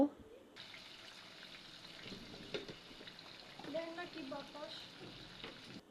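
Ginger garlic paste fries with salt in a pan for an egg curry, giving a soft, faint sizzle with light stirring and occasional voices in the background.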